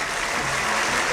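Dense crowd applause at an Indian political rally fills a brief moment, loud and steady without a break.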